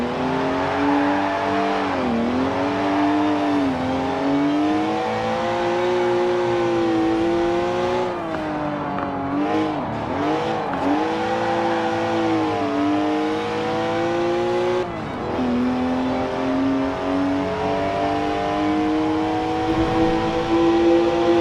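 A BMW engine from the video game Forza Horizon 4, a steady loud drone with repeated rises and dips in pitch as the car revs and shifts, continuous with no talk over it.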